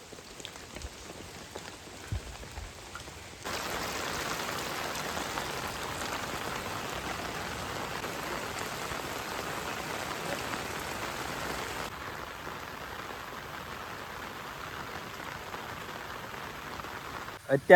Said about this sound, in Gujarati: હજી વરસાદ તો ચાલુ જ છે